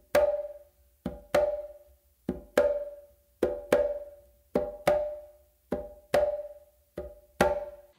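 Sharp slaps on a quinto conga in a steady rhythm, each strong open slap preceded closely by a softer ghost slap, ringing briefly and alone with no talking.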